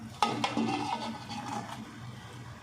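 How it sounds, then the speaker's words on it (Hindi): Cooked rice gently stirred into melted sugar in a pot for zarda, a sweet rice dish, with a sharp scrape or clink at the start, then soft, steady scraping and shuffling close by. "इस जगह हमने हल्के हाथों से इनको मिक्स कर लेना है।"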